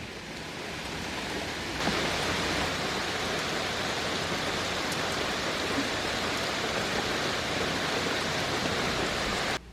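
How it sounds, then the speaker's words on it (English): Steady rain falls outside, a dense and continuous hiss that stays even throughout, with no voices over it. "but it's raining."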